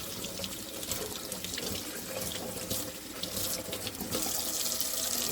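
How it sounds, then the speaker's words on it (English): Tap water runs steadily into a sink, rinsing soapy, goop-covered silverware: a continuous close splashing hiss that swells slightly toward the end, with no voices. "Work that lather all over it and rinse."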